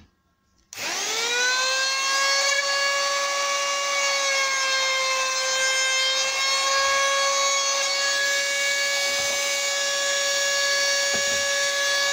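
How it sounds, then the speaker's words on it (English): A chamfer cutter runs along the top edge of a wooden gate board, giving a loud, steady high-pitched router whine. It starts abruptly and holds continuously near the mic with no talk. "I'm going to run chamfer cutter along the top edge as well."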